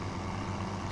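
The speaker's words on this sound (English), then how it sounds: "Hear it pulling up the hill. It's got a kind of a nice throaty sound to it." A Farming Simulator 17 tractor engine labouring uphill, a steady low throaty drone, close and continuous for a brief moment.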